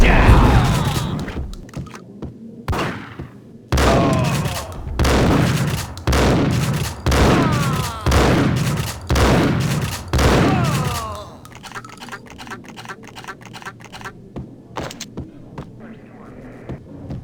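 Heavy gunfire in Max Payne, about eight loud booming shots at a steady pace, each with a long ringing tail, followed by quieter rattling shots and game sounds.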